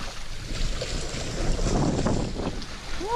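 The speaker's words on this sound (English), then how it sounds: "Oh, this wind, man." Wind gusts across a fishing boat on open water, buffeting the microphone with a rough, fluctuating roar, loud and close, with faint water sounds beneath and no clear speech.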